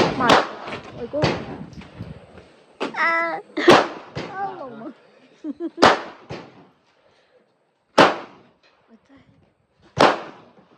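Real guns fire at a shooting range, giving about eight sharp, loud cracks at irregular intervals. Voices talk over the early shots, and the later reports ring out alone with quiet gaps between them.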